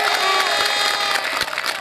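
A political rally crowd cheers, whoops and applauds, loud, dense and continuous, with scattered shouting mixed into the roar.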